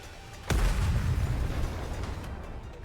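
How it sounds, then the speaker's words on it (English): A missile explodes in Nikke X Stellar Blade. One sudden, heavy, close blast is followed by a long low rumble that slowly fades. "The missiles have no homing ability. It's just firing wildly!"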